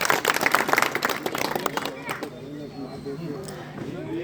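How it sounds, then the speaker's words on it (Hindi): A crowd at a Rajasthan political gathering bursts into brisk clapping that fades within two seconds, leaving murmured chatter and voices in the background. "एक बार जोरदार तालियों से उनका।"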